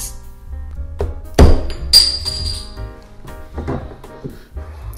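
A beer bottle, a Bruch Zwickel, is pried open with a screwdriver: one sharp metallic thunk and clink near the middle, followed by a brief hiss, all close and fairly loud.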